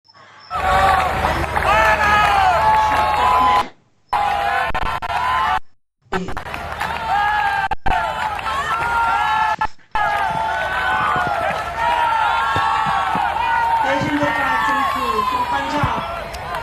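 A stadium crowd at a senior national athletics meet shouts and cheers steadily for a long jumper's first attempt, a dense roar of many voices with a few brief dropouts.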